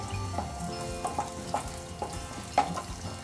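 Peanuts, mustard seeds and cumin fry in hot oil with a steady close sizzle, broken by small crackles and pops that repeat about every half second.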